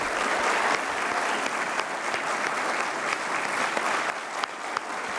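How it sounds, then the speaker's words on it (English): At an awards luncheon, a banquet audience applauds new Academy of Fellows inductees with sustained, even clapping that fills the room, plus a few sharper individual claps standing out. "Let's have a round of applause for this great group of individuals."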